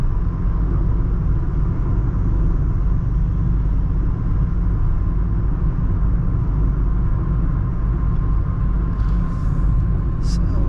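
Steady low road rumble fills the cabin of a Tata Altroz DCA cruising on a highway, a constant dense hum with faint wind and no distinct events until a few light clicks near the end.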